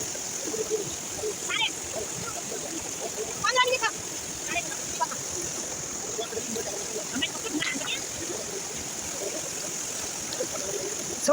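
A river stream flowing steadily, broadband water rush with small splashes close by, while people talk intermittently over it.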